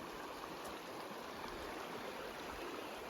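Moose River, swollen where it joins Resplendent Creek in Jasper National Park, rushes in a steady broadband wash of flowing water, close and continuous without pause.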